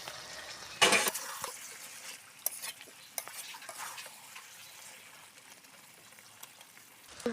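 Potatoes tossed into a pan for a village-style chicken posto, with a sharp splash of sizzle, then spatula scrapes and clinks over a soft, fading hiss of frying.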